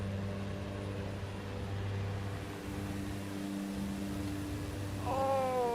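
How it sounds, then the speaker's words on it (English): An airplane taking off in Microsoft Flight Simulator 2024 on PS5 Pro: a steady, droning engine hum with a low rumble that builds slightly, and a rising whine near the end. "This is going to be a bumpy takeoff."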